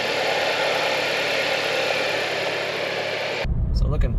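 Interior hum of a 2023 Acura Integra engine cruising in fourth gear around 2,500 RPM, a steady broadband drone that cuts off abruptly near the end, leaving quieter low rumbling.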